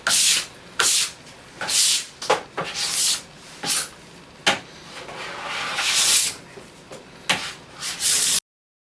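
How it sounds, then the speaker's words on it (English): Plastic scraper drawn repeatedly along a waxed snowboard base, stripping off wax in a rhythmic series of close, rasping strokes with brief pauses between them. "as I get this wax off, gliding faster and faster with my scraper"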